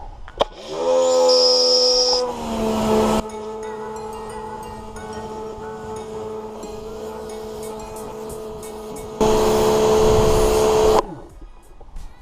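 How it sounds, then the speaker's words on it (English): Pressure washer rinse spraying a Ford Ranger Wildtrak, a loud steady hissing spray with a droning motor hum underneath, louder bursts at the start and again near the end, close and without talk. "I always start off with a rinse to try and get most of the crap off before I use the snow foam"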